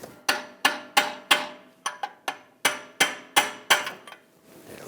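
A hammer strikes the rear axle of a 2009-2017 Volkswagen Tiguan from the front during a wheel bearing and hub job, about a dozen sharp metallic blows at a steady pace, each ringing briefly, close and loud.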